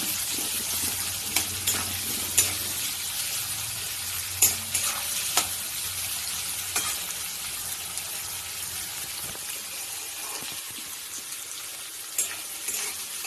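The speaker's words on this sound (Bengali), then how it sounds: "তো পেঁয়াজটা ভাজা হচ্ছে আমার, পেঁয়াজটা একটু লাল করে ভাজা হবে" Onion sizzles steadily in a hot pan while being fried until reddish, a continuous close hiss broken by occasional light scrapes and taps of a stirring spoon, with no voices.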